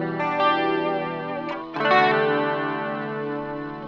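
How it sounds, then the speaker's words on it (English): Electric guitar run through an Axe-FX III chorus effect, sustained chords with a wide shimmering modulation, briefly re-struck midway and ringing on, loud and close with no talking. "And so that's a chorus right now."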